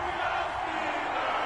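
Steady roar of a packed stadium crowd cheering before kickoff in an EA Sports NFL game between the Dallas Cowboys and Pittsburgh Steelers, a dense continuous wash of voices with no clear individual words.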